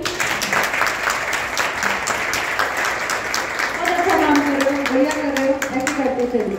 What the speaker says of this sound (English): giving a big round of applause to them